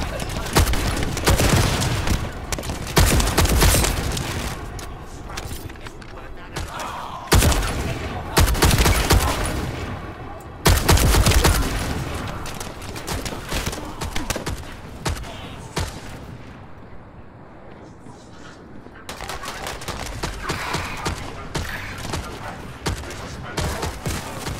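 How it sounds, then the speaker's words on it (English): Dense bursts of video game gunfire and booming explosions, loud and continuous with heavy sustained volleys, while a player's voice speaks over the battle. "Who's firing?"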